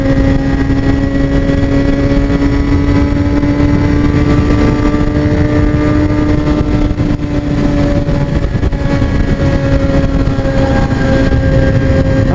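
A motorcycle engine drones steadily and loudly while cruising along a freeway, a continuous close hum with faint wind noise and no speech.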